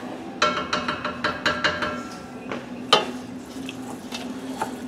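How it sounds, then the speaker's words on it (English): A spoon scrapes and clinks against a pot while pasta is stirred, a run of sharp, close knocks at a steady pace that thin out, over a soft background hum. "So, we'll stir that around."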